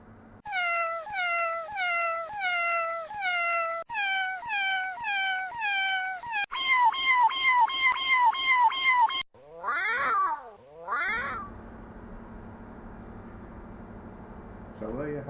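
Repeated cat meows and drawn-out yowls in a steady series, loud and close, ending in a few rising wails before a low hum; no talking.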